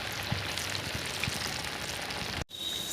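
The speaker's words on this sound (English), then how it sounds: "So this bhajia, I'm going to be frying them for 4 to 5 minutes on medium to high flame or until golden brown." Bhajia fritters, battered Kenyan maru bhajia, frying in hot oil over a medium-high flame, a dense steady sizzle and crackle that drops out sharply for an instant near the end before resuming.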